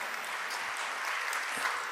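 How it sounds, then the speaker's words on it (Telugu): A congregation at a Christian ministry gathering claps in a continuous, even patter, soft and somewhat distant, lasting about two seconds with no voices standing out. "చప్పట్లు ఎందుకు కొడుతున్నావు"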